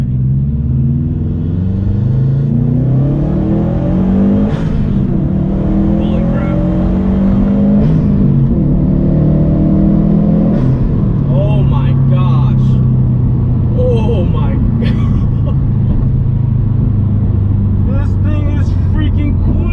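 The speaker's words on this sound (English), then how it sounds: "One more second gear pull." A 2020 Subaru WRX STI engine with a pro tune revs up hard in second gear and strains as it accelerates, its rumble rising in pitch, loud and close, with people talking over it.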